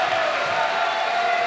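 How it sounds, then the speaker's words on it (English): A squash arena crowd at a 2017 semifinal between Farag and Elias roars in a steady, dense wall of cheering and whooping, loud and sustained throughout with no pauses. "Well, the crowd go mental."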